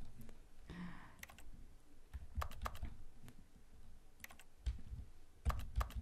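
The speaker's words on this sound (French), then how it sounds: "j'ai le bruit du clavier en plus du mien" Computer keyboard typing comes in short clicking bursts while a game's key settings are changed, the keystrokes fairly close and moderately loud over a low background hum, with pauses between clusters of presses.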